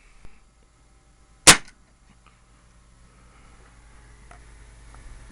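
A single sharp, loud revolver gunshot fired during a chronograph velocity test, a sudden crack that decays quickly into quiet outdoor background.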